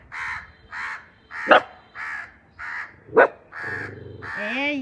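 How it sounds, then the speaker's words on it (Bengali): A crow caws repeatedly at a house, harsh evenly spaced calls close by, with a dog's sharp bark or yelp breaking in twice and a whining sound at the end. "কাক এসছে"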